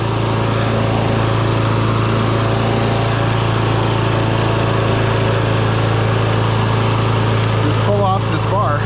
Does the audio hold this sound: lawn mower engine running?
yes